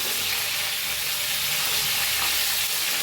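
Stuffed masala chillies sizzle in a pan while being stirred and turned over, a steady close crackling fry with soft scraping movements and no talking.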